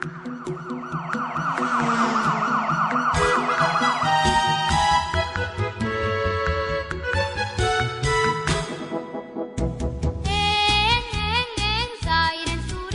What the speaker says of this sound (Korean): 앵앵앵 사이렌 소리